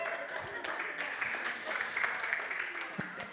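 Applause at a wedding reception, a round of clapping from the guests that holds steady and moderately loud across the room, with some chatter mixed in underneath.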